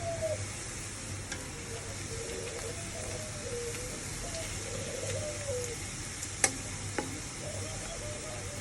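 Onions frying in a pan, a soft continuous sizzle with occasional stirring, while birds coo and chirp nearby over a low steady hum.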